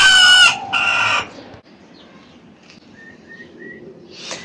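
A hen clucks loudly and close at the start in two short bursts, then the yard goes quiet apart from faint, thin calls further off.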